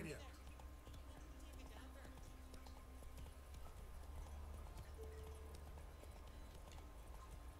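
Hooves of the horse Roach in the video game The Witcher 3 beat a steady galloping clip-clop on the ground, under game ambience and a voice talking.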